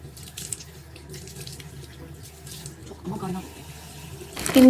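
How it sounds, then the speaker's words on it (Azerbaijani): A bathroom tap runs steadily into a sink while someone washes their face, soft splashing under a hum, growing louder near the end. "İndi də əl üzümü yuyub dişlərimi fırçalayacağım."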